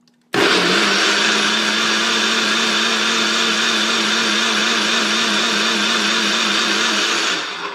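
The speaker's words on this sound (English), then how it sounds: "I'm going to turn this back on and blend the rest of this" A blender blending almonds and water into almond milk whirs loudly and steadily for several seconds at close range, then winds down at the end.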